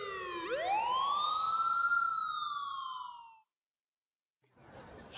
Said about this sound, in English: Kinda early to hear sirens like that.